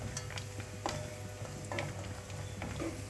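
Cashews and raisins fry in ghee in a small pan, giving a soft, steady sizzle with faint crackles and light stirring clicks, quiet and close.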